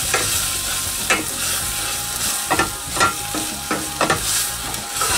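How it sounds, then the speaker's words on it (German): Onions and tomato paste fry in a pot with a constant close sizzle, broken by the scrape and clack of a spoon stirring every second or so. No voices are heard. "Zwischendurch dann auch mal hier an den Zwiebeln ein bisschen rühren."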